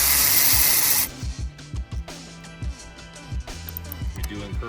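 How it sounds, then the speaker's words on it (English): Bolts holding the brake caliper to its carrier come out of the rear axle of a Mini RCR T3 RC car. A small power tool whirs in short bursts after a loud hiss, and a voice talks over it. "Next step, remove the 2 bolts that hold the caliper to the carrier."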